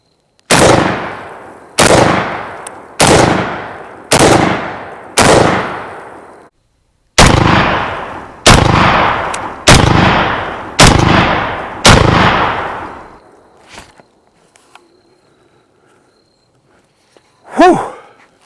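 Rock Island Armory VRF14 shotgun loaded with double-aught buckshot, fired from a five-round magazine: five loud, evenly spaced booming shots, a short pause, then five more in a steady rhythm, each with a ringing tail, followed by quiet with a faint clatter near the end.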